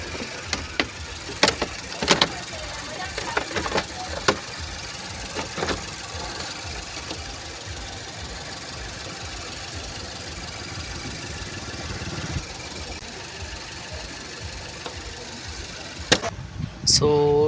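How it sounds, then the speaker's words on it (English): A Mazda CX7 engine idling steadily after a repair for a lean-off-idle fault, heard from near the cabin as a constant mid-pitched hum with light rattles and a few clicks, no talking. "See, the engine is working perfect."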